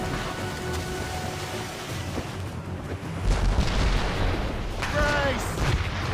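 Ship cannons fire in a naval battle in Assassin's Creed Rogue, with a heavy boom landing midway through a steady, rain-like rush of battle noise while voices call out over the din.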